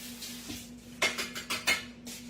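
A spatula being rinsed gives off a series of soft clinks and splashy bursts against a steady faint hum, about five quick knocks close by in a quiet kitchen.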